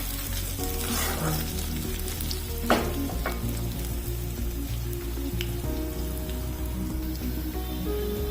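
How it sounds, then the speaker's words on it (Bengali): Onions fry with garlic in a pan of hot oil, a dense, even sizzle heard up close with a few stirring clinks and no voices. "পেঁয়াজটা হালকা ফ্রাই হয়ে এলে এবার আমি সবজিগুলোকে দিয়ে দেবো"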